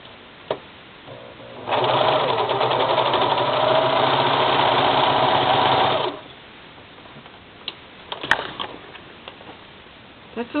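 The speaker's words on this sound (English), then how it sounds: "That's all the serging." A serger sewing machine stitches a Hawaiian style soap bag in one steady, close whirring run of about four seconds, with quiet handling clicks and faint room noise before and after.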